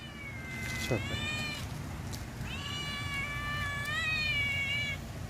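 A cat meows twice, long drawn-out cries close by, with a short rustling thump between them over faint background noise.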